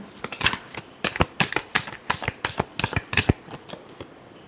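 Tarot cards are shuffled by hand in a rapid series of crisp riffling bursts, close and clear, with no talk.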